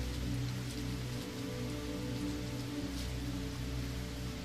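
Steady rain falls on a wide, wet city street at night, a dense continuous patter of drops with a low rumbling undertone, even and unbroken throughout.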